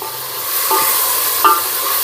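Food sizzles steadily while being sautéed in a frying pan, with a couple of brief scraping stirs of a spoon against the pan, close and fairly loud with no talking.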